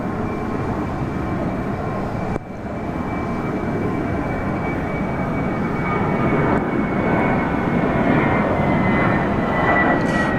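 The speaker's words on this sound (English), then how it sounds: "Jetstar flight 523 heading off to Melbourne Tullamarine" A Jetstar passenger jet departs Sydney Airport, a loud, steady broadband engine roar with a high whine that holds throughout, briefly dipping near the start before building again, heard outdoors with no talking.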